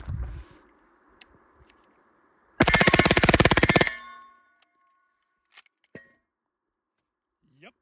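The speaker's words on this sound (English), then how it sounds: "We're going to see if it'll reliably just run the whole mag dump" A suppressed MP5K fires 124-grain rounds in one continuous full-auto burst of just over a second onto steel targets, followed by a few scattered metallic pings from the steel; brief voices come before the burst.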